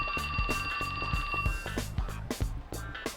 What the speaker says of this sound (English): when the cell phone rang